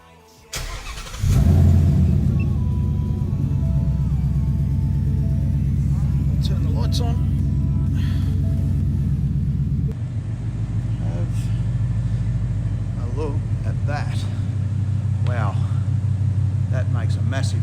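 A 2017 Ford Mustang GT V8 cranks, catches with a loud rev and then settles into a steady, deep rumbling idle close by, with a slight shift in tone partway through.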